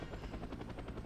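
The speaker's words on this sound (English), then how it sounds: "Shove him right through the helicopter blades" Helicopter rotor blades in the Superman: Shadow of Apokolips video game, a fast, steady rhythmic whup-whup beating over a low engine drone, continuous and fairly quiet.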